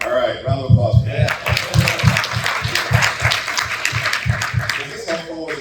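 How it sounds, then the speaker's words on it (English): Audience applause after a talk, dense clapping from a crowd running throughout, with voices and shouts mixed in under the applause. "All right, round of applause."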